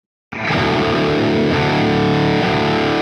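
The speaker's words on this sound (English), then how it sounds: "So I'm going to try out the crunch channel." Marshall JCM-2000 amp on its crunch channel boosted by a Fortin NATAS pedal: a single heavily distorted electric guitar chord struck abruptly after a brief silence and left ringing loud, full and sustained.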